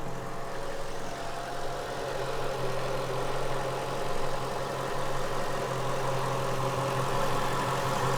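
A 2003 Mercedes-Benz SL55 AMG engine idles steadily with a low, even hum and faint mechanical rattle throughout, no voices.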